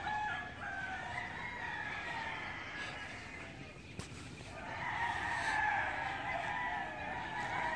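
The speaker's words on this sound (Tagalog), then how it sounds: "Ang daming tilaok ng manok." Roosters crowing on a small farm over a steady rushing background, with drawn-out calls overlapping and fairly loud, continuing through the whole stretch.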